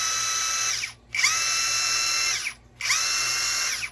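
A DOWOX 21V cordless impact driver spins up in three bursts, each a high whirring whine that winds down before the next press, close and loud with no talking.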